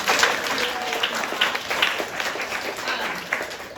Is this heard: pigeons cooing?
no